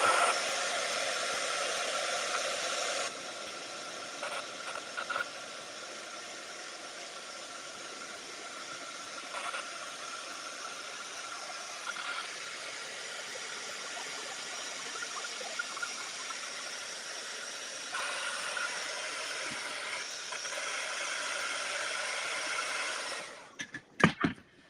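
A heat tool melts embossing powder from underneath, giving a steady loud blowing hiss like a hair dryer that runs for over twenty seconds, with small clicks and bumps, then cuts off with a few handling knocks.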